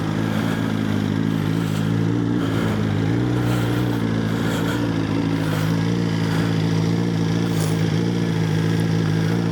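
A 2024 BMW S1000RR motorcycle drones continuously on a riding lap, its engine note steady and loud with slight rises in revs and wind rush, no voices.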